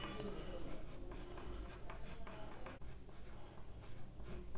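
A pencil scratches short, quick strokes across paper to draw fur, rapid rhythmic scratching close up and steady throughout.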